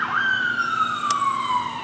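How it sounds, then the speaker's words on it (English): A street siren wails steadily, its tone sliding slowly downward, loud and close with faint traffic noise beneath and no talk. "that siren you're hearing won't be heard anymore in the streets"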